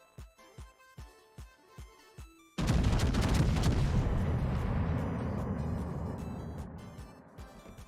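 USS Texas, an American battleship, fires a heavy gun salvo in World of Warships, a loud sudden boom that rolls into a long fading rumble, after a run of quieter rhythmic thumps.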